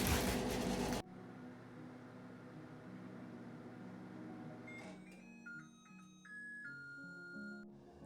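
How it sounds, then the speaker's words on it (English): A microwave oven heats a portion of slightly icy chicken, a steady low hum after a short loud burst at the start, followed by a few high electronic beeps from button presses. "we'll pop that in the microwave"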